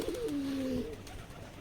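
A pigeon gives a single close, soft cooing call at a pigeon coop, a low wavering hoot that fades within a second, followed by quiet background.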